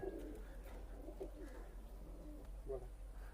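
Pakistani tournament pigeon cooing softly in low, repeated rolling notes, a few faint coos spread across a few seconds against a steady low background hum.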